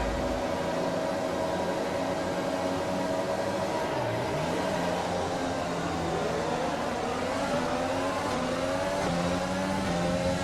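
F1 race cars launch off the grid at the start of the Brazil Grand Prix in the video game F1 2020, a steady loud engine roar with several high whining pitches sweeping up and down through gear changes, with no talk.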